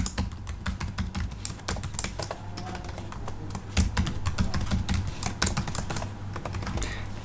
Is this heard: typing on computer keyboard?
yes